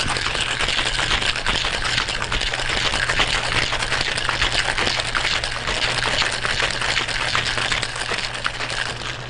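Continuous loud rattling of ice shaken hard inside a metal cocktail shaker while mixing a margarita, steady and vigorous throughout.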